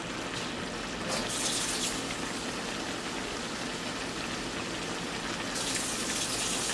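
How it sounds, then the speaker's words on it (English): Water poured into a cooking pot while making chicken wings with rice and potatoes, a steady close gushing splash running throughout with brief brighter bursts near the start and end, no talking. "we're gonna start putting the water"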